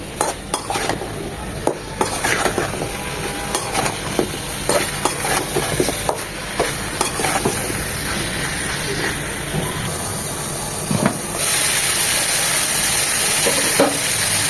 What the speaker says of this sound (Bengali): মশলার সাথে দু মিনিটের মতো সব কষিয়ে নেবো